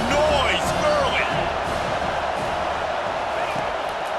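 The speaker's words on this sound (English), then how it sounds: "This crowd bringing the energy and noise early." A stadium crowd at a college football game between Florida and Tennessee roars in a broad, steady wash of noise, while a commentator talks over it.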